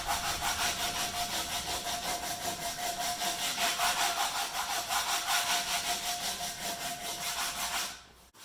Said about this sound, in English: I'm using a 36 grit sandpaper on a sanding block.